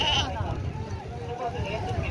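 Gulabi goats bleating amid the crowd noise of a busy goat market in Hyderabad, faint and mixed under voices.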